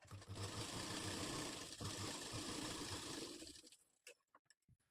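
A sewing machine runs steadily for nearly four seconds, stitching a katori blouse, then stops, leaving a few faint clicks and taps.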